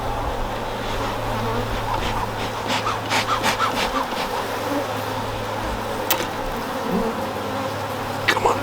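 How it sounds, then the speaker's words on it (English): A loud, continuous drone of many honeybees, older foragers buzzing close by during a hive brood box inspection, with a low steady hum and occasional sharper passes near the ear. "The ones buzzing around are all the older foragers."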